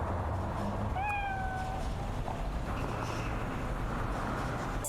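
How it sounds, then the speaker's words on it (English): A single short cat meow from the video game Cyberpunk rises clearly over a steady background hum, followed by quiet ambient noise. "Let's pet the cat one more time."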